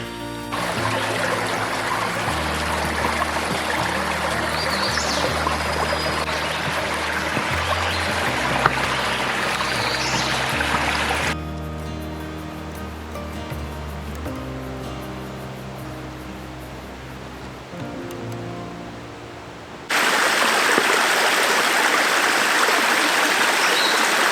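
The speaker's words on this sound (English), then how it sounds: "we have come to a creek crossing" A forest creek on a spring hike in Chimney Rock State Park rushes and gurgles over rocks at a crossing, a loud, continuous wash of water with shifts in level as the listening position changes.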